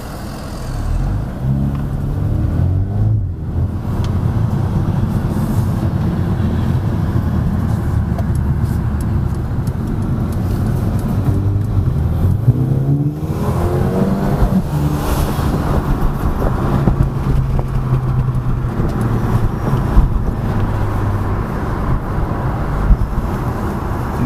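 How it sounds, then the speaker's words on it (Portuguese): Mercedes A35 AMG turbocharged engine while driving, a loud continuous drone from inside the car with rising and falling revs and faint turbo whine across gear changes. "Estamos constantemente a ouvir o turbo, também torna a condução mais emocionante."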